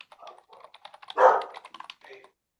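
Dogs bark during an online meeting, one loud short bark standing out amid quieter clicking and tapping sounds close to the microphone.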